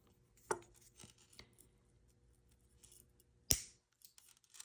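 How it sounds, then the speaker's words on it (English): Jewelry chain link being cut with cutters for a necklace extender, giving a couple of faint ticks and then one sharp, close snip in an otherwise quiet room. "So we're going to cut that link."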